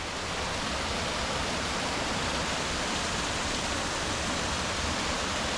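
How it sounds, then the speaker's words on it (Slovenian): Water rushes steadily from the spring of the Karišnica river at its cave source in Dalmatia. The broad, constant roar of flowing water has no break and no voices. "to je pa izvir reke Karišnice"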